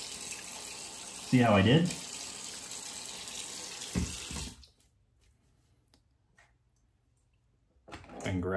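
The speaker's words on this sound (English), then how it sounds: "Rinse off real quick." Water from a tap runs briefly while a Gillette Toggle razor is rinsed off, a short loud splash near the start, then clunks and a quiet stretch before sink noises return. A voice speaks briefly.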